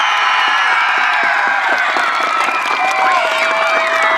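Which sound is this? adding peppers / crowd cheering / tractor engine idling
crowd cheering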